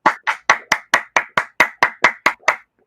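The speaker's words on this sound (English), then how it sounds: "why are you guys clapping your hands?" A dozen sharp hand claps in a steady, even rhythm from people in a praise gathering, loud and close with no talking over them, ending in silence.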